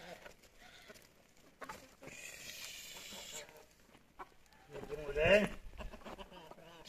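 Village chickens cluck as they gather for feed, mixed with other farm animal calls and someone talking over them, growing louder and busier near the end.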